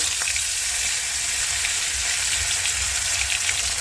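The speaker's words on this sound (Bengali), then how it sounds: "তেলটা তেতে গেছে আমি এক এক করে মাছ দিয়ে দেবো তেলের মধ্যে" Pieces of catla fish fry in hot oil for a Bengali fish curry, giving a steady, close, even sizzle with a faint crackle throughout and no voices.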